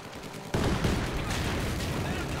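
Sustained machine gun fire in Company of Heroes 2, a dense continuous rattle that bursts in suddenly after a quieter start and stays loud and steady to the end.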